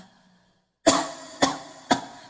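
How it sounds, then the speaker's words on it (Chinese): Three sharp, deliberate coughs come in an even rhythm after a short silence, close and clear, demonstrated as part of a vocal singing lesson. "咳嗽的时候怎么咳？"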